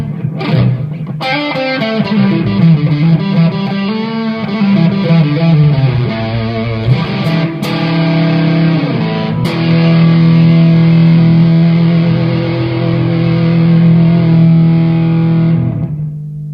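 Electric guitar through a Strymon Blue Sky reverb pedal on a large reverb setting, sustained distorted notes and chords ringing into a long wash that tails off at the end, heard alone.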